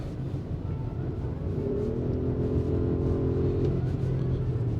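An Audi SQ8 V8 engine rises in a steady, loud rumbling hum as the car accelerates, heard from inside the cabin with constant road noise and no break.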